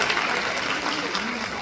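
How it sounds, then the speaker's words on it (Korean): A crowd at a Korean political rally breaks into brief, dense applause, many hands clapping together while a voice briefly sounds over it. "박수 부탁드리겠습니다."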